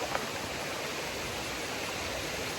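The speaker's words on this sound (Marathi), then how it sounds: "जो धबधबा आहे तिथे आलोय, त्या नदीपाशी आलो आणि धबधब्यापाशी पण आलोय।" A waterfall beside a river in a Konkan village forest gives a steady, broadband rush of falling water that holds even and unbroken throughout.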